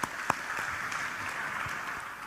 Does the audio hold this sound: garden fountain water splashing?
no